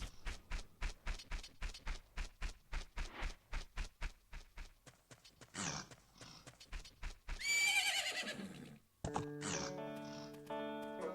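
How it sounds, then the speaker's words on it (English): A horse's hooves clop in a fast, even rhythm in the video game The Legend of Zelda: Majora's Mask, then the horse lets out a loud neigh, followed by bright game music. "Isn't that your horse?"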